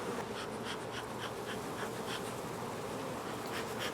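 Honeybees swarm around a hive on a farm, making a dense, constant buzz close by. Individual bees flying past stand out now and then from the steady hum.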